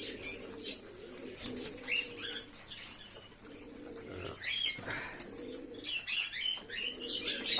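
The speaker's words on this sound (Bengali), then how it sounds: "ফেন্সি পায়রা বলতে আমি শুধু লক্কা পায়রাই যা আছে" Fancy lakka pigeons, white and black, flap their wings and coo nearby during a morning feeding, with repeated wing bursts and rustling scuffles over a soft, steady cooing murmur.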